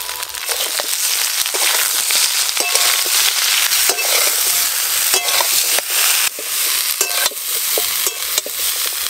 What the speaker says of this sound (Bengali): এবার কুমড়ো শাক আর ডাঁটা দিয়ে দেব।